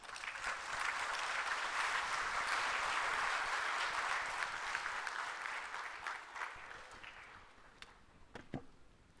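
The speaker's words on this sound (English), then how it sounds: "I want you all to give him a huge round of applause" A large seated audience applauds the President of India at a National Human Rights Day ceremony, a dense sustained round of clapping that fades out gradually, leaving a few scattered final claps.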